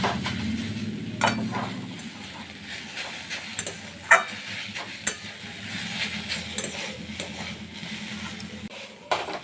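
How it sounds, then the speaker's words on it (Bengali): Beetroot sautéed with a little chili powder in a pan for a vegetable chop filling: a soft constant sizzle under repeated spatula scrapes and occasional sharp clicks against the pan. "সামান্য একটু লঙ্কা গুঁড়ো দেব একটু আবার কষিয়ে নেবো"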